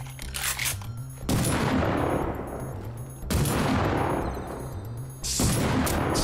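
Three loud, booming pump shotgun blasts in the survival game Rust, each a sharp close-range bang with a long rumbling tail, evenly spaced about two seconds apart with mechanical clicks between.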